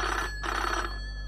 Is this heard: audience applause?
no